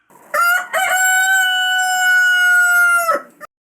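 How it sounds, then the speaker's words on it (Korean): A rooster crows once, loud and close, a long sustained cock-a-doodle-doo with a few short clucks at the start and end. "수탉이 꼬끼요 하고 좀 더 크게 우는 소리를 본뜬"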